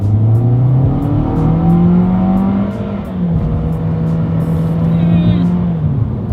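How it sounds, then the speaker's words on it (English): A 2021 Toyota Corolla's engine revs up loudly through rising gears on a straightaway, the pitch climbing, dropping at each shift, then climbing again, heard from inside the cabin. "let's do a quick little acceleration test here"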